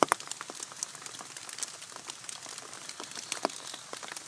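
Light rain on a wet evening falls as a soft pattering of scattered drops and crackles, faint and irregular, with no voices.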